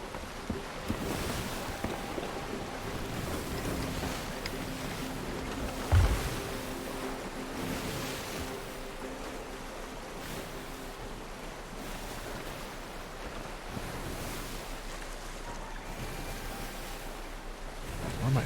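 Ocean waves wash steadily around a sailing ship at sea in a video game, with a soft surf rush, wind noise and the creak of the vessel continuing throughout, one louder thump partway through, no talk.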